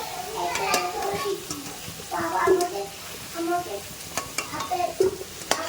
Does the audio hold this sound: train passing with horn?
no